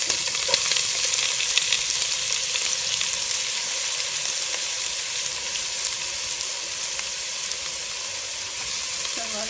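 Sliced onion frying in hot coconut oil in a home kitchen, a steady loud sizzle and crackle running continuously, with occasional stirring clicks and no speech.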